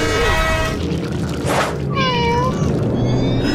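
A cartoon cat meows loudly and repeatedly with drawn-out, wavering yowls over a busy background of music and effects.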